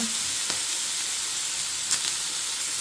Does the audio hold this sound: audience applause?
no